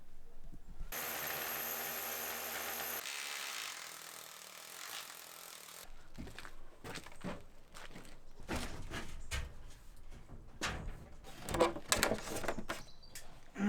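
Power tool cutting notches into wooden roof rafters at an old stone ruin, a loud buzzing whine from about one to six seconds, followed by a stretch of knocks, scrapes and handling of timber.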